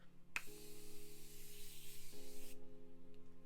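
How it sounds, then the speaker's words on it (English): A short burst of Morphe Continuous Setting Mist is sprayed onto a face, a soft fine hiss lasting about two seconds over a faint steady background hum. "I'm going to add another layer of the Morphe Continuous Setting Mist."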